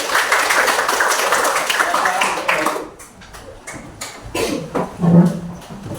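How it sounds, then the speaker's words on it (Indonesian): A classroom of pupils claps together in a loud, dense burst that fades after about three seconds, leaving scattered taps and brief sounds. "Tepuk tangan untuk kita semua"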